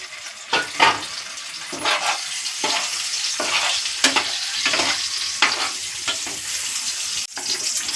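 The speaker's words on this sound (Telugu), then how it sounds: "ఇప్పుడు ఎగ్స్ అయితే ఫ్రై చేసుకుంటున్నారండి." Eggs frying in a pan for egg curry, a continuous sizzle broken by repeated scraping strokes of a utensil, close and fairly loud with no talking.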